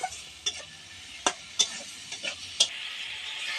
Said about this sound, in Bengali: ডালটা এর মধ্যে দিয়ে দেবো দিয়ে একটু নাড়াচাড়া দিয়ে নেবো